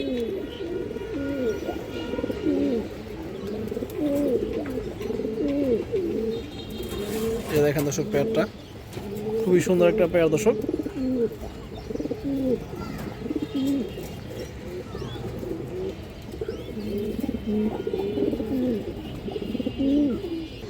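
Big-sized pigeons coo in a dense, rolling chorus close by for the whole stretch, while someone talks over them in between.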